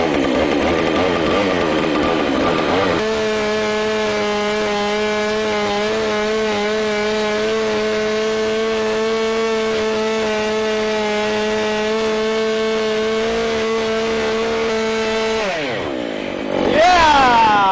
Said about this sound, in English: fire up our saw, and we have to make sure we take all the slack up in the cable before we hit full throttle